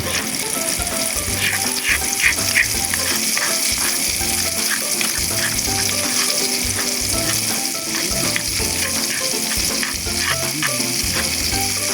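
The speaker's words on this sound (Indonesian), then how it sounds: "Di sini kami akan langsung menggoreng bumbunya" Continuous loud sizzling and crackling of spice paste frying in a pan, with intermittent stirring scrapes and a low background hum.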